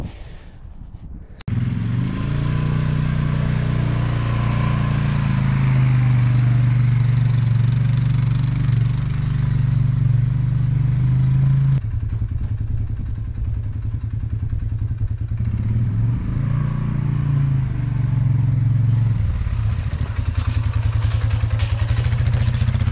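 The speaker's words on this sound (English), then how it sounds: "I can go get the ATV and pull it the rest of the way." A homestead ATV engine starts up and runs loudly and steadily, with a drop in revving partway through and an uneven throb as it pulls a load of compost hard pack.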